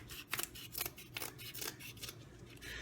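Scissors snip around the edge of a cake board, a string of crisp cuts repeating close by at an uneven pace, fairly quiet, with no talking.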